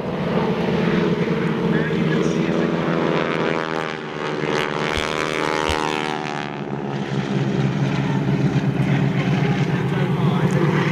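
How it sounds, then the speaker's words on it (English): Propeller-driven 1940s biplanes roar past at an air show, a loud close engine drone that swells and shifts in pitch as they pass, with a commentator speaking over it. "Such an intense sound coming from these biplanes as they go past."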